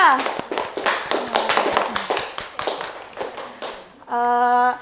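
Steady clapping from a classroom group, fast and dense, running for several seconds before a sustained tone cuts in at the end.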